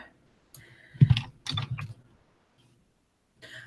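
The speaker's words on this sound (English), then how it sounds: "You can hear my typing." A few short bursts of keyboard typing, clattering keys close to the microphone, separated by brief pauses of near silence.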